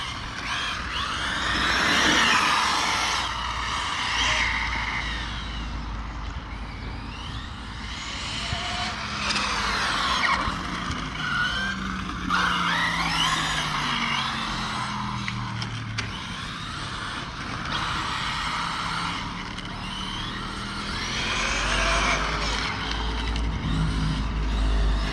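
An FTX Superforza 8S 1400kv RC car, not driven for several months, runs around at mid-distance, its electric motor whining and rising and falling in pitch as it accelerates and passes.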